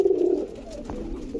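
Pigeon from a breeder's pair giving a single low cooing call, close and fairly soft, with quiet background afterward.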